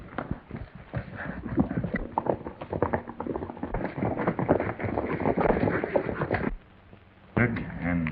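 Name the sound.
horses trotting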